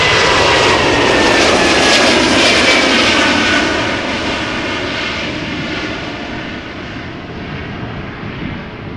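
A loud Boeing 777-200 jet airliner roars past at Amsterdam Schiphol Airport, its broad engine rumble and whine strongest at first and slowly fading away, with no voices.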